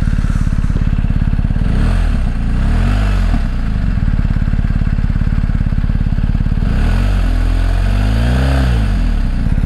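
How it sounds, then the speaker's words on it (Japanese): A BMW R1250GS motorcycle engine runs loud and close, a steady deep throb with a couple of brief revs rising and falling. "このバイクの音かと思った心に響いてくるサウンド。"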